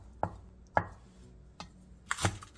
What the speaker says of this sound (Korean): 게맛살 3개를 1cm 정도 두께로 길게 어슷썰게 해주세요